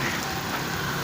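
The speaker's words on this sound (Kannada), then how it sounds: "ಈಗ ಮಳೆ ಒಂದು ಜೋಬರ ಐತಿ" Heavy rain falls in a steady, dense hiss that stays even from start to finish, with no other sounds rising above it.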